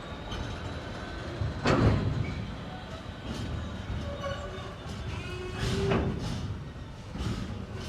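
A work train hauling loaded spoil wagons at a tip creeps forward over a weighbridge, giving a steady rumbling clatter of wheels with occasional louder metallic squeals and bumps.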